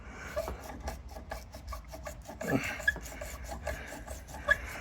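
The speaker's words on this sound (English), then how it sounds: "Just gotta get some of this rust broken out of here so it moves away." Rust being broken loose on an outer sway bar bushing of a 1983-1988 Toyota Tercel 4WD, heard as close, steady rasping and rubbing scrapes with a few sharper scratchy accents, no talking.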